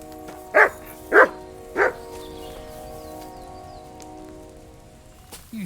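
A dog in the video game Kingdom Come: Deliverance II gives three clear barks about half a second apart, fairly close, over a steady background of rain-like ambience and music.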